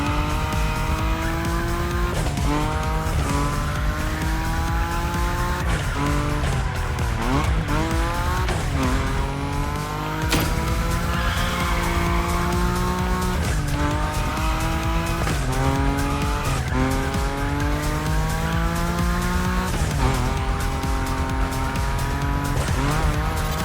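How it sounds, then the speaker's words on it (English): Nissan Nismo drifting in The Crew Motorfest: a loud engine roar rises and falls through repeated gear changes while tires squeal steadily through long slides, continuous and close with no talking. "Your Nismo is powerful enough to slide along on its own when you're at high speed, so don't be afraid to keep your foot on the gas."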